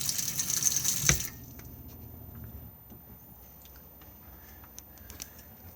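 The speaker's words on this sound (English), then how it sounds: "if I now come to a tap, the water I'm getting here is literally just coming directly from the Aquaroll itself" Water runs from a tap in a Swift Elegance 580 caravan, supplied by an Aquaroll, with a steady hiss that stops after about a second, leaving a quiet interior with faint ticks.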